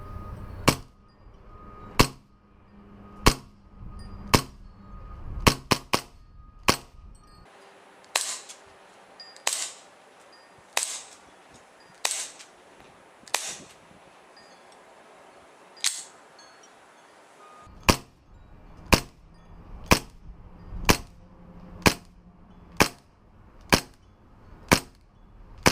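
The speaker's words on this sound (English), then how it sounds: "Now for some actual shooting, I would say that this is a real snappy pistol with the CO2 magazine," An ASG CZ P-09 CO2 airsoft pistol fires about two dozen sharp, snappy shots in uneven series, each crack loud and close, with a faint hiss between some of them and no talking.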